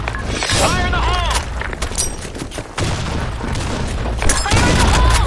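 Grenade explosions and gunfire in the Sand Storm II map of a shooter game, heavy booms and crackling shots mixed together, with voices shouting over the loud, busy battle.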